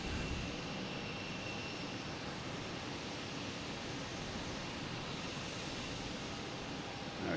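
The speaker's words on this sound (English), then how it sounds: "Planes everywhere." Jet airliners at Boston Logan Airport in the evening: a steady, broad jet engine roar, fairly distant and constant, with no talk.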